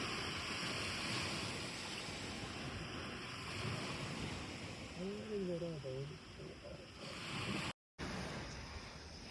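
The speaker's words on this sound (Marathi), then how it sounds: "लाटांचा आवाज डायरेक्ट कानावरती येत होता" Sea waves wash steadily on a quiet Konkan beach, a broad continuous roar of surf with wind buffeting the microphone; a brief voice murmurs partway through before a short dropout.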